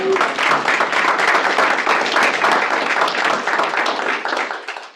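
People at a stakeholder meeting applaud a departing guest, a steady round of brisk, close clapping from a modest group lasting several seconds before tapering off at the end.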